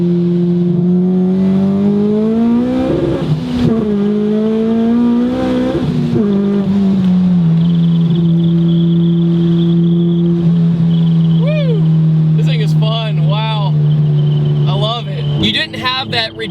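A supercharged Honda Civic Si FA5 engine pulls hard and loud from inside the car, its droning tone climbing through the revs with shifts, a brief dip and a rising whine, while someone talks over it.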